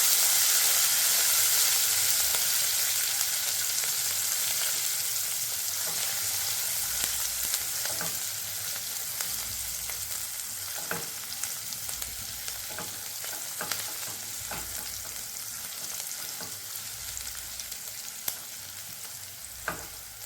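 Carrot, chili and onion pieces fry in oil for upma while being stirred, with a constant sizzle and repeated sharp scrapes and knocks of the spoon against the pan.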